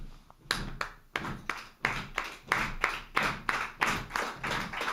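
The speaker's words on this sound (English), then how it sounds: "it's just clapping double time." About a dozen sharp hand claps in a steady, evenly spaced rhythm at a Nuyorican Poets Cafe open mic, each clap crisp and close with a short room decay, no talking.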